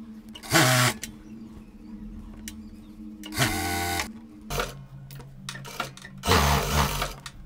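A sewing machine stitches a fabric strip for a cloth mask in three short whirring bursts, close and fairly loud, with quiet handling between runs.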